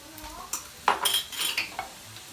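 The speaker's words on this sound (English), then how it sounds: "Grab a jar and a lid and a ring" A glass canning jar, its metal lid and its screw ring are lifted in a kitchen during blueberry jam making, with a few close, sharp clinks and light clatters in quick, irregular succession.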